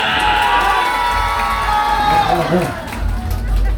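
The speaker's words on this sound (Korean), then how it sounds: "우리 빠가사리 팀 박수와 함께 함성음을 딱 한번 해주셔요" A festival crowd at the Donghae Mureung festival, including children, lets out a loud sustained cheer and shout, with clapping mixed in. The roar swells and dips, and a voice is heard within it.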